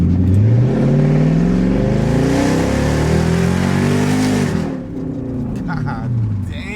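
Lexus SC400 with an aftermarket exhaust pulling hard, the engine note climbing and revving loud and close for several seconds before easing off, with people talking over it.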